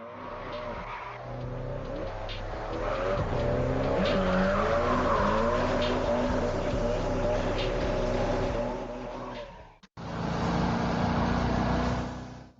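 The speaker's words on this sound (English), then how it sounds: "participate in heated races, flying sideways in a drifting style" Racing cars drift sideways in a racing video game, tires squealing in long sustained skids over a droning engine roar, loud and continuous, cutting briefly before resuming.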